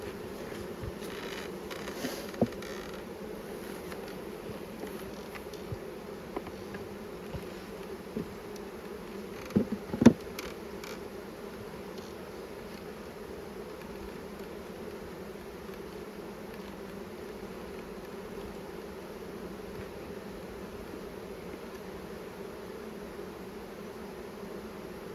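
Bees buzz steadily around a two-sided hive during an inspection, a dense continuous drone close by, with a few brief rustling knocks near the middle and no talk.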